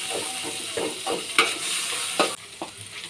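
Onion, garlic and green chili fry in oil in a pot while being stirred, with close sizzling under repeated scraping strokes of a spoon at an irregular rhythm.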